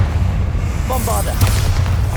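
The Bombarda blasting spell goes off in the Hogwarts Legacy video game, a heavy rumbling boom with a brief bright magical crackle partway through, loud and close.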